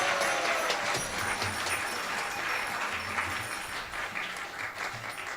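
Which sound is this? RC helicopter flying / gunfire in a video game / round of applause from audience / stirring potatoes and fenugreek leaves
round of applause from audience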